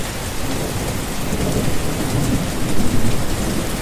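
Heavy rain pours down hard in a thunderstorm, a dense, loud roar of rainfall with rumbling thunder swelling beneath it, heard alone without any voices.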